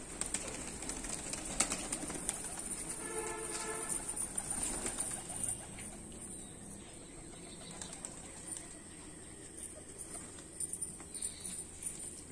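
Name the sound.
pigeons cooing and flapping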